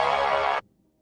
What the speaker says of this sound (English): that's the sound of the wrong answer.